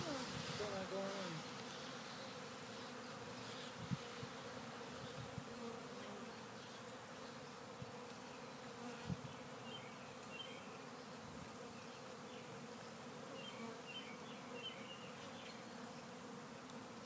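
Honeybees buzz in a dense, steady swarm drone while a five-frame nuc is being installed, with occasional soft knocks and brief handling noises throughout, fairly close and continuous.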